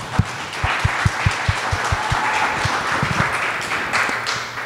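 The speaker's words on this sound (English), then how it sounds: "a big round of applause to all of our mentors" Conference audience applauds open-source mentors, with a sparse, rhythmic run of close, distinct hand claps over a softer bed of scattered clapping from the room.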